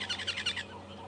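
Birds call with a brief run of bright, rapid chirps that fade out after about half a second, heard in the African bush on a morning safari drive at Djuma and Arathusa.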